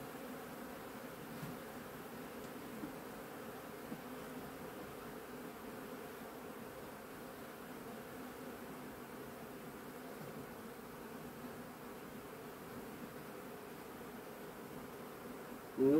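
Honey bees hum steadily around a hive that has been emptied of its colony and queen but still holds honey, a dense, even drone that continues unbroken with no voices.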